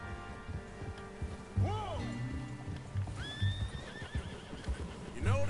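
Horses in the video game Red Dead Redemption 2 whinny several times in short rising-and-falling calls over hoof clops, with someone speaking in the background.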